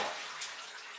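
Water rushes and splashes steadily in a bath while a dog is being wetted down, a close, continuous wash of sound with no voices.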